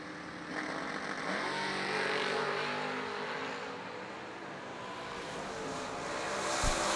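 A Chevrolet Monza drag racing car at a vintage drag race, its engine a steady, sustained roar heard at a distance across the track, swelling slightly near the end, with no voices.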